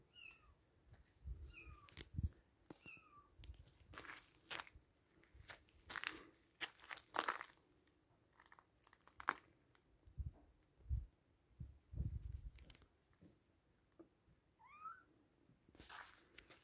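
Several cats meow in a quiet indoor corner of a Tatar ethnographic complex, with a few short, rising calls scattered among soft rustles and low thuds, faint and close.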